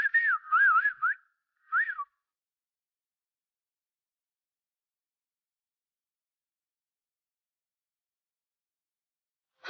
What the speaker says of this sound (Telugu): విజిల్ వేస్తున్నావేంటి?